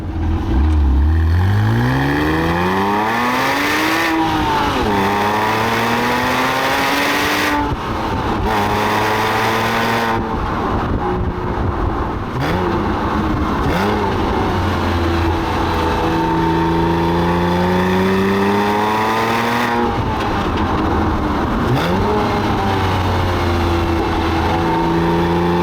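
A Porsche 986 engine revs hard and accelerates through several gears, pitch climbing and dropping at each shift, loud and continuous with no talking.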